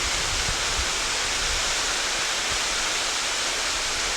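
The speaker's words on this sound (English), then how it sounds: "So this is probably one of the prettiest waterfalls we've been to." Waterfall at Galvin's Gorge on the Gibb River Road, a steady broadband roar of falling water filling the scene without pause, with no voices over it.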